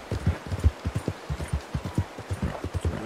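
Horse hooves clip-clopping in the video game Red Dead Redemption 2, a steady, quick rhythm, each hoof strike distinct and close, with no talking.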